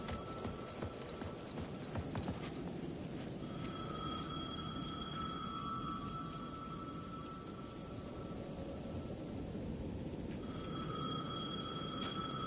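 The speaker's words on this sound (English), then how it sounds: "The payphone at the edge of the plaza was ringing again." A payphone at the edge of a plaza rings in the Alan Wake 2 video game, with two drawn-out electronic ring bursts heard under steady, dense rain noise.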